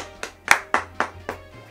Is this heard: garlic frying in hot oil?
no